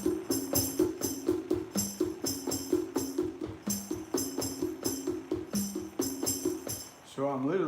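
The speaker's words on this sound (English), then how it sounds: "So now you can hear difference when I play paradiddle with my legs." Paradiddle drum pattern played with the legs, a jingle bell strapped to one foot, giving a fast steady rhythm of thumps with bright jingling accents on each stroke, close and fairly loud, ending in a short tonal flourish.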